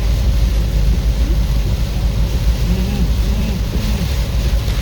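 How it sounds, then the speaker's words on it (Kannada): Heavy rain pounding a moving car on the road from Karwar to Kumta, a loud, dense roar of rain and road rumble filling the cabin continuously, with faint tonal hums under it. "ಹೆವಿ ಮಳೆ ಗಾಯ್ಸ್."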